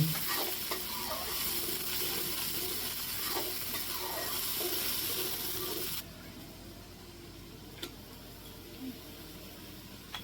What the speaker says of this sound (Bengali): একটু নেড়ে চেড়ে কষাতে হবে পেঁয়াজের গন্ধগুলি তাহলে দূর হবে